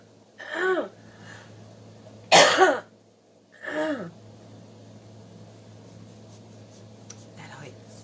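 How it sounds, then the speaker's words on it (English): Three separate harsh coughs from a person with Covid, spaced a second or so apart, close and fairly loud, against a steady low hum with faint rustling in between. "My cough has not been consistent."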